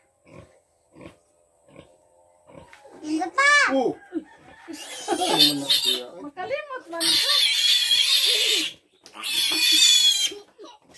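Piglets squeal loudly in repeated shrill bursts while being marked on a farm, with people talking between and over the cries.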